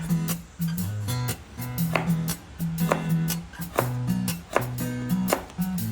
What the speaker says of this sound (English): Cut into pieces to easily make a julienne.